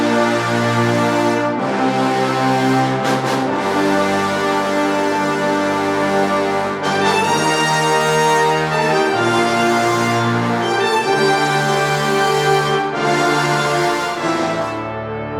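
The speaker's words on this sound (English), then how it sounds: "So altogether, the brass is just this really big, full brass section, sounds like this." A big, full orchestral brass section plays a theme in a rising end sequence, rich sustained chords with deep low brass under bright upper lines, loud and continuous, moving through several swelling phrases with no voices.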